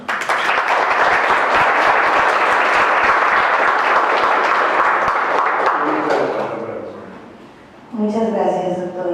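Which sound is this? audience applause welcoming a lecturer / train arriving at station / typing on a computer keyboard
audience applause welcoming a lecturer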